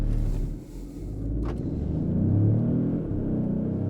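A Peugeot 5008 Hybrid SUV engine rumbles and builds steadily as it accelerates at full throttle from a standstill, with a brief gear-change dip early on, loud and close.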